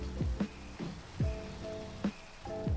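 Steady rain hisses through a video game scene, a soft continuous wash of falling drops with a few brief tonal sweeps rising over it.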